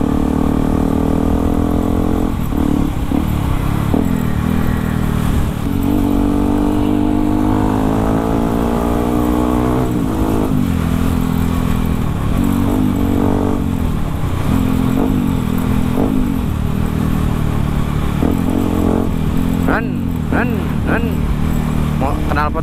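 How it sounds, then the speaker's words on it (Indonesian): Yamaha WR155R supermoto riding on a street, its engine loud and close, revving up and down repeatedly with rising and falling pitch and short throttle blips over a constant road drone. "Knalpot ini tuh enak digeber-geber ya."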